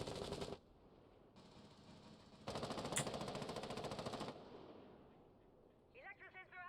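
Light machine gun fire in the tactical shooter Rainbow Six Siege, heard as rapid automatic bursts: a short opening burst, a quieter stretch, then a long, louder sustained volley, with a voice speaking at the very end.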